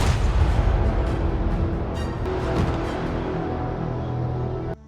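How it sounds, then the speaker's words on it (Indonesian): Gunfire in a gangster-mafia action film, a loud sustained roar of shots and booms running continuously, dense and close, then cutting off abruptly near the end. "Namun tiba-tiba Mastip berhasil ditembak oleh seseorang."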